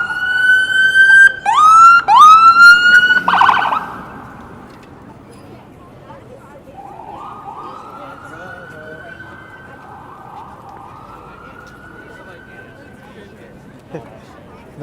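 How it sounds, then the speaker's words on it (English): A loud ambulance siren wails, sweeping up and down close by on a Manhattan street at night, then fades to a fainter, more distant wail that lingers for several seconds. "I'm not going with this ambulance."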